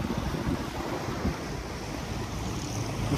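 Ocean surf rolls in continuously, a steady broadband wash with wind buffeting the microphone, loud and close throughout with no talking.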